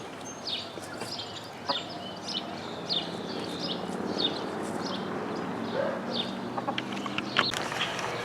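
Chickens and a rooster cluck and chirp around a coop outdoors, making scattered short calls near and far over a steady low background hum, with a bit of faint talk.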